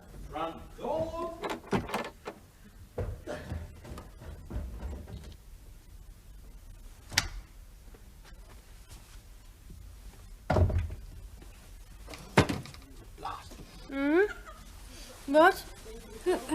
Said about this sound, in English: Lock front door.